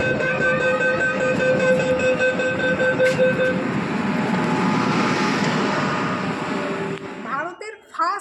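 Inside India's first underwater metro beneath the Ganges, a train car hums and rumbles with steady broadband rolling noise and a few tonal whines early on, ending with a brief drop and clatter near the close.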